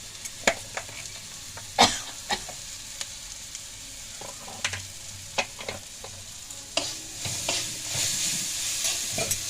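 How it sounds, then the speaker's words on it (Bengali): Masala with Kashmiri chilli powder fries in a pan with a little water, a close crackling sizzle cut by repeated sharp scrapes and knocks of stirring, the hiss swelling toward the end, no talk. "মশলাটার উপরে একটু জল দিয়ে ভালো করে একটু পাকাই নিই। মশলাটা ভালো কষে দেবো।"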